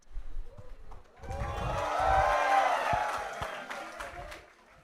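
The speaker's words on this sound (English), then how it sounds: "So let's cheer and begin this event." An audience at the HackOut '24 hackathon inauguration breaks into cheering and applause after brief talk, swelling to a sustained crowd roar that fades toward the end.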